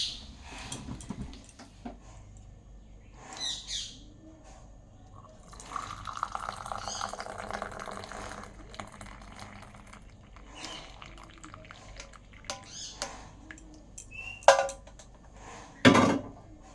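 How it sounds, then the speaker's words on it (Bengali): Tea being strained into a cup: liquid pouring and trickling, with scattered drips and a few sharp clinks of pot and utensils close by, ending in louder knocks. "চাটা আমি ছেঁকে নেব"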